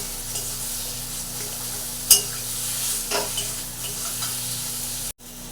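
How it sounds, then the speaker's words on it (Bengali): Grated potato filling frying in a pan for aloo paratha, stirred with a spatula: a steady close sizzle with a few light scraping strokes, ending abruptly. "এটা খুব ভালো করে নেড়ে নেবো।"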